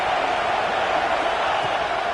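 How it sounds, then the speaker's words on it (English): A steady, dense roar from a football stadium crowd rising up, with a broad, continuous wash of noise that stays loud throughout. "This crowd rising up, sensing that its defense needs some help."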